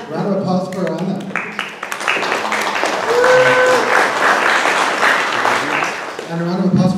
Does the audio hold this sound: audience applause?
yes